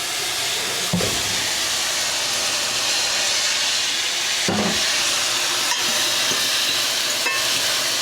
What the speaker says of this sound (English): I might just drop a little water on it so it can do some steam